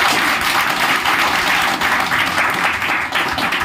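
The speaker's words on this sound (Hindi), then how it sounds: "जोरदार ताली चाहिए" Loud, sustained applause from a packed audience at a marketing seminar, a thick continuous roar of many hands clapping vigorously for several seconds.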